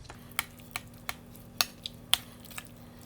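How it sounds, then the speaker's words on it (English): A spoon clinks and knocks a few times in a pot of homemade baked beans with their cooking water while mixing, sparse sharp taps over a quiet low hum, close and moderate. "I'm gonna go ahead and just mix all that together"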